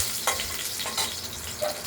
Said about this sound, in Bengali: কড়াইতে সর্ষে কাঁচা লঙ্কা ফোড়ন দিয়ে